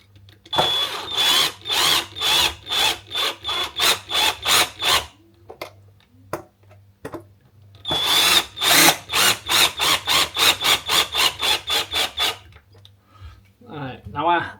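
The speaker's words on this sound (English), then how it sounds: "Turn your torque down on your drill." A power drill runs in two long bursts of rapid, pulsing whirs, close and loud, separated by a short pause, while fitting a rudder to a Pakayak kayak.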